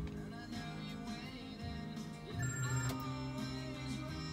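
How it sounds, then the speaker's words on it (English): A telephone rings in a room, its tonal ringtone blending into a dense, steady background of music-like tones, moderately quiet and continuous throughout. "There's the phone."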